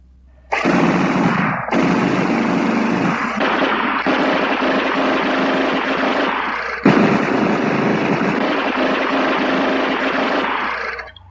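A Tround International open chamber gun system fires in rapid continuous bursts, a loud, dense rattling stream with a brief pause and a sharp restart, carrying on for several seconds before stopping.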